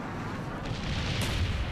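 A napalm strike explosion in the video game Call of Duty Black Ops makes a heavy, continuous low rumble with crackling texture, steady and fairly loud across a short stretch, with no talking.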